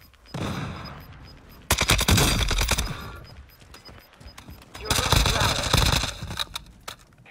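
Called-in strike in Warzone 2 with gunfire: two loud, dense bursts of rapid shots, each lasting about a second and a half, separated by quieter gaps, with no voices.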